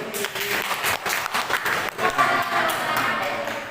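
Applause from a classroom audience at an Islamic religious education lesson, a steady burst of clapping lasting the whole stretch, fairly loud and close with no talk over it.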